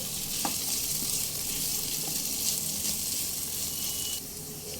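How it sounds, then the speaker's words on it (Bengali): Vegetables for chire pulao, dusted with roasted cumin powder, sizzle steadily in a hot pan while being stirred, a loud continuous hiss broken by occasional soft scrapes and clicks. "আরও এক মিনিট মতো সবজিগুলো একটু নাড়াচাড়া করে নেব"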